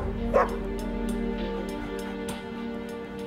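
Taz, a dog trapped in a canyon during a cold winter evening, lets out a few short barks and yips over a steady background hum.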